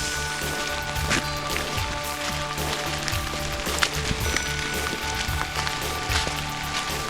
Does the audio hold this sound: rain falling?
yes